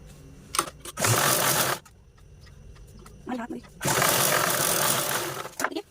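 A sewing machine stitches khan blouse fabric in two loud, sustained bursts, with quieter handling sounds and a voice between runs.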